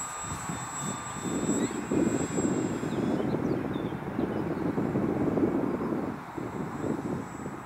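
A radio-controlled Super Cub model plane's engine drones steadily at a distance, with a faint high whine drifting in and out over outdoor wind noise.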